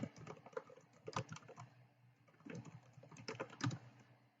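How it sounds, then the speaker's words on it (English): Quiet clicking of fingers typing on a computer keyboard, irregular clusters of light keystrokes with brief pauses, close and alone. "they get to type in the answer"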